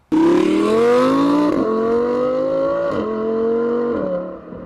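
An Audi R8 V10 Plus accelerates hard on the road, its loud engine note climbing through several gear changes with brief dips between each rising pull, heard alone and close.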